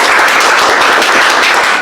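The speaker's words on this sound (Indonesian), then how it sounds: "Tepuk tangan buat kalian." Applause for the Indonesian U19 football team after reaching the AFF U19 semifinal: a dense, loud burst of clapping from a group, continuous and close for about two seconds with no voices.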